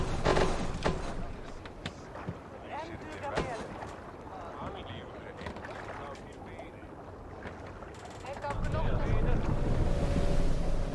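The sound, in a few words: boat sailing in wind in Assassin's Creed Valhalla video game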